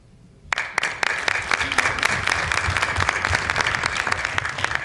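A school board meeting audience bursts into sustained applause for students, dense clapping that starts abruptly after a quiet moment and continues steadily to the end.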